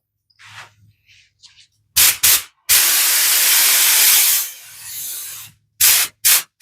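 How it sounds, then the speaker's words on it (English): A paint spray gun sprays clear base coat at 28 psi with the fan fully open, first in a few short hissing bursts, then one long steady hiss, then more brief bursts, all close and loud. "spray the clear base coat on this image here"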